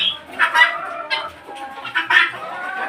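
Chickens on a poultry farm cluck and squawk in bursts over several seconds, a close, busy flock with no talking.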